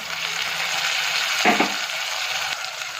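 Tomatoes drop into a hot pan of frying masala paste while cooking a green chori, brinjal and potato curry, giving a steady close sizzle with a brief louder burst as they hit the oil, and no talking.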